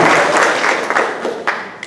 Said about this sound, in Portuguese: Um aplauso ao Senhor pela vida dos nossos jovens.